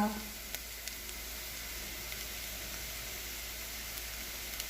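Spice powders for mutton curry sizzle and fry in a pan, a faint steady hiss with a few light stirring taps.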